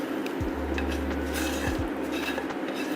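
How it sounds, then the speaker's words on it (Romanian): A utensil scrapes and clinks softly against a pan as mushrooms fried in butter are slowly stirred, with intermittent light taps over a steady low hum and faint sizzle, with no talking. "Amestecăm încet ciupercile."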